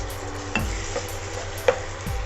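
Goat liver cooking in a pan with tomatoes for a liver fry gravy, a low steady sizzle broken by a few sharp utensil scrapes and taps against the pan, close with no talk.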